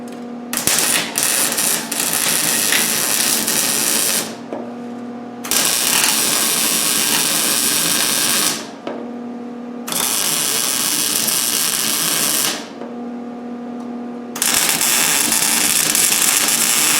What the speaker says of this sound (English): And now all we've got to do is weld up the holes.